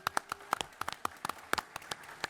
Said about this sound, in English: please give Michael Reeves a round of applause